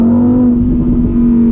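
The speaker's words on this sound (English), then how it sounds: "We can do a little acceleration, probably coming out of this turn." A Lamborghini Huracan Evo accelerates out of a turn, its engine note holding a loud, steady drone heard from inside the car, close and continuous without talk.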